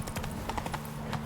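Hooves of the horse Roach clip-clopping at a quick gallop in The Witcher 3, a rapid, fairly faint rhythmic run of several beats with no talk over it.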